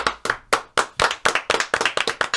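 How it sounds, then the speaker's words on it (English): A few people clap in a small podcast studio room, sharp distinct hand claps in an uneven, quickening rhythm, close and fairly loud with no talking. "Oh, you guys clapping for yourselves?"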